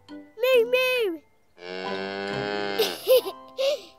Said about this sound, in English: Look, it's a cow.